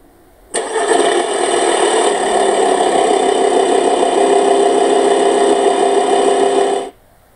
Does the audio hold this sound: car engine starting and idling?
yes